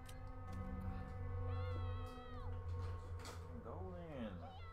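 A cat meows a few times in a room, drawn-out cries near the end, over a steady hum of Resident Evil 4 game sound.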